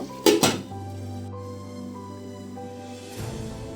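A lid clanks twice onto a cooking pot of stir-fried beef curry, a sharp metallic double clatter followed by a steady low hum and faint simmer, with no talking.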